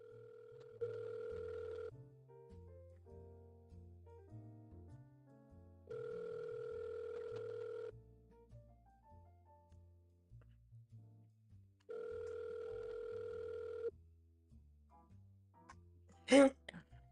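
An outgoing phone call's ringback tone repeats three times in long, steady two-second bursts with silent gaps between them, and a short sharp noise at the very end.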